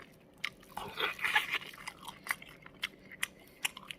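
Close mukbang chewing of soft braised pig's trotters (jokbal), with wet smacking and squishy crunching bites in an irregular rhythm, heard alone without talk.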